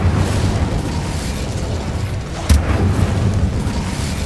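The Incendio fire spell is cast in the Hogwarts Legacy video game, a rumbling whoosh of flame with a sharp burst about halfway through, loud and close over a low background.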